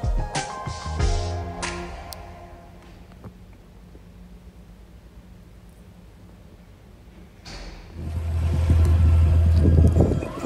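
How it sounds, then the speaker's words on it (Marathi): Wind roars against the microphone and fades to a quiet lull, then a heavy rush of wind and sea waves builds up again, on a beach at Eilat, Israel. "समुद्राच्या लाटांचा आवाज, वारा आणि हे म्युझिक"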